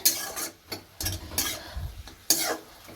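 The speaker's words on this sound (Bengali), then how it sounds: "এখানে শাক ভাজাটা হচ্ছে" Leafy greens frying in a pan while a home cook stirs them, the utensil scraping and clinking in bursts over a steady sizzle, close and fairly loud, with no talking.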